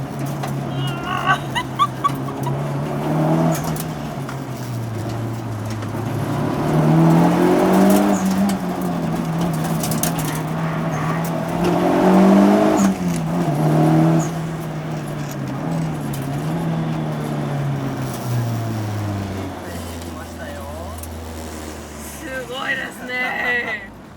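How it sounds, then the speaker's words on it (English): Cars speeding along a street racing road in Gunma, Japan, with engines revving and rising and falling in pitch as they pass by in succession, loud and fairly close, while people talk and exclaim over them. "Cars just passed us."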